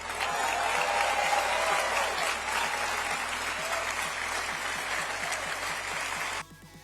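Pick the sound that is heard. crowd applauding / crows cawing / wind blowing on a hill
crowd applauding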